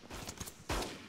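Gunfire in the ArmA 3 video game during a D-Day battle: a few muffled distant shots, then a heavier close burst, fairly quiet overall.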